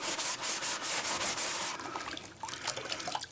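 A gold pan being scrubbed hard to strip its releasing agent, giving a close, loud, rhythmic rasping rub of repeated strokes that turn rougher and more broken toward the end.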